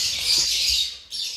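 Young birds squawking at a nest, a loud, harsh, continuous chorus of raspy calls that briefly dips near the end before resuming.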